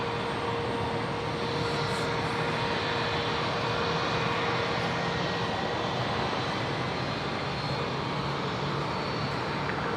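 Saab 340 turboprop taking off from runway 01 right at Brisbane Airport, a steady distant engine roar holding at an even level throughout with no voices.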